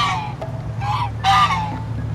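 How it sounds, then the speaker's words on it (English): African domestic geese honk nearby in a few short calls over a low background hum, with the last honk the loudest. "These geese right here are actually African domestic geese"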